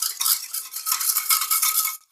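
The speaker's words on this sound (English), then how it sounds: "Mix it well, mainly so the miso dissolves" Miso being stirred into a small amount of toasted sesame oil, a quick scraping and clinking rhythm of a utensil against a bowl, close and steady, with no talking.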